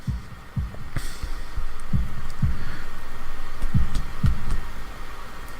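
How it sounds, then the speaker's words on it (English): Heartbeat sound effect from the visual novel Katawa Shoujo: about seven deep, low thumps in a steady paired lub-dub rhythm over a soft hum, fairly loud and with no talking. "holding my breath in an attempt to hear my heartbeat"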